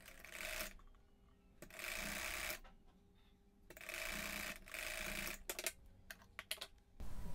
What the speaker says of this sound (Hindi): पहले हम नेकलाइन से सिलाई लगा दे रहे हैं।